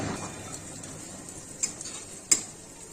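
Potatoes with turmeric start frying in a pan, giving a steady low sizzle with a couple of faint clicks and one sharper tap, close and without any voices.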